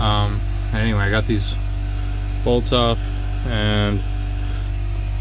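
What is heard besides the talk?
air compressor running in the background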